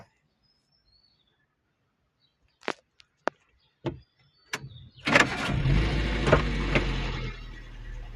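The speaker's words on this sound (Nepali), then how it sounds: "भर्खर त गाडी स्टार्ट गर्दा एउटा एक्जस्टको साउन्ड सुनाउँछु है त म" A car starting up after a few sharp clicks and knocks, its engine catching with a loud close exhaust rumble that settles into a steady idle.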